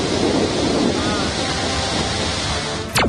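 Gokak waterfall, swollen after heavy rain and dropping from 180 feet, fills the air with a loud, unbroken rushing roar, close and steady, ending with a brief sharp sweep.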